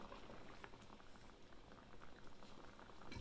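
White chicken chili simmers down in a pot, giving a soft, continuous bubbling and popping. It stays faint and close throughout.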